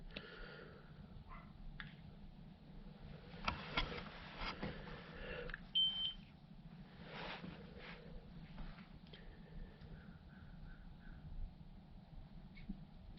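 A UNI-T UNi690B thermal imaging camera is switched on and gives a few short, faint electronic beeps amid quiet handling noises and soft rustles.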